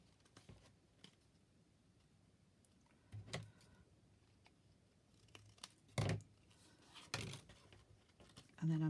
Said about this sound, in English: I'm just going to cut the tops as I'm holding them